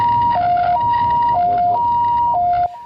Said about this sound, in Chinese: 救护车到车祸现场